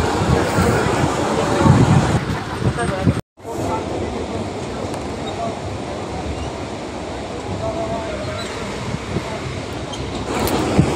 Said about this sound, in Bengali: ট্রেনটা পুরো ঠিকঠাক টাইমে ছেড়ে দিয়েছে